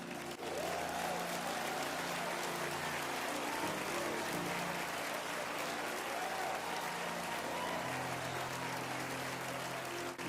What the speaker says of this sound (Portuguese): Batam palmas bem alto.